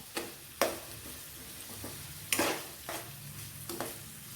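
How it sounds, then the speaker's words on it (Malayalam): Sliced onions and eight halved garlic cloves sauté in a pan for a potato roast, giving a low steady sizzle broken by several sharp scraping strokes of a stirring spoon, close by, with no voices. "ഇളക്കി കൊടുത്ത് ഒന്ന് വഴറ്റിയെടുക്കാം."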